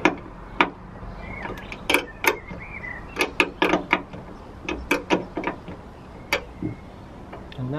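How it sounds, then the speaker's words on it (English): A spanner tightens the gas bonnet strut fitting on a Ford Fiesta ST180, giving a run of sharp, close metallic clicks and ticks at an irregular pace, with no talking. "I'm basically just going to tighten that with a spanner."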